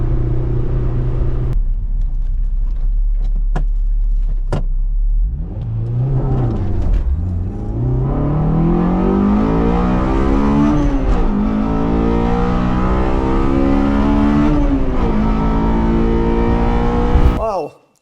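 A loud Suzuki Hayabusa-based drag bike engine idles, then revs repeatedly to around 8,000 rpm, climbing steeply in pitch with each throttle blip before dropping back, close up, ending abruptly.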